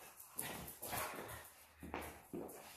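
A dog barks several times in short bursts, faint and somewhat distant, spaced irregularly across the moment.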